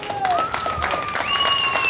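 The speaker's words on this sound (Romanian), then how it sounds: "Aplauze!" A crowd applauds at a horse traction contest, with dense, steady clapping close by and a whistling tone rising above it.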